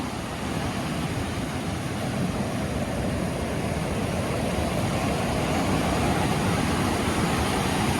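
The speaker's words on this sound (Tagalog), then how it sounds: "grabing alon dito." Strong sea waves crash and wash without pause, a dense, loud broadband roar of surf that stays close and steady the whole time, with no voices.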